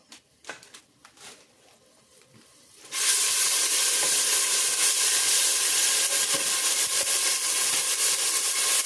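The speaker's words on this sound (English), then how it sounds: "That's my homemade green seasoning. So that I'm gonna fry that up." Homemade green seasoning hits a hot pan and erupts into loud, steady sizzling frying after a few quiet clinks and knocks, the hiss holding strong and continuous with no talk.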